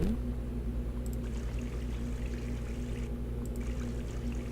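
A steady, fairly loud pour of water runs from a tap in the Gone Home game, a continuous rushing flow that lasts the whole stretch with a low hum beneath it and no talking.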